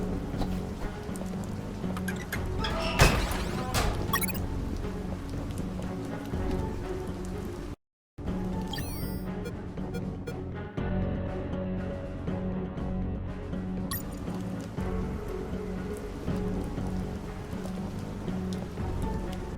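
Steady rain falling in the video game UnMetal, a continuous hiss of drops on surfaces with no talk, broken by a brief dropout near the middle and some faint game tones over the downpour.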